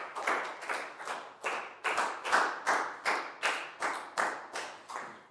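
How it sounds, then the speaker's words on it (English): A classroom of pupils in a Year 4 maths lesson clapping for a classmate in a steady unison rhythm, about a dozen sharp claps at an even pace, fairly close and clear with no talk over them. "High five and a big round of applause for Chu."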